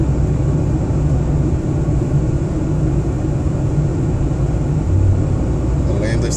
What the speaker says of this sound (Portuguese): O cara tira pra ultrapassar na curva.